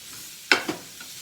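Chicken and broccoli get stirred in a hot skillet: a sharp scrape and sizzle burst, then a second softer stir, over a faint background hiss.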